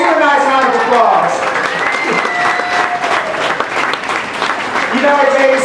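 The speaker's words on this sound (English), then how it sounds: "Let's give a nice round of applause." A studio audience on a Disney backlot tour applauds loudly and steadily, a dense wash of many hands clapping close by, with a few voices and whoops rising through the sustained ovation.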